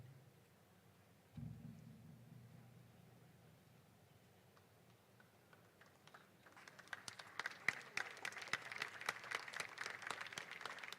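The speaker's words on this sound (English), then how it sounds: "Once more, a big round of applause." Applause at a class of 2023 graduation ceremony swells in the second half from scattered claps into a dense, loud burst of many hands, following a quieter stretch with a low hum.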